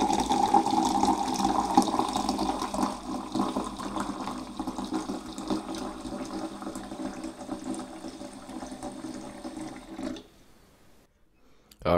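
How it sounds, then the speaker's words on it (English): Water gushes steadily from a tap into a cup for about ten seconds, then the flow stops and it goes quiet. "Gotta fill the cup up with some water."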